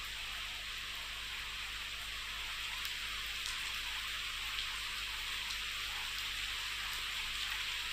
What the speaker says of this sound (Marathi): पेण तालुक्यातील जोहे हमरापूर भागात पावसाच्या सरी बरसल्यात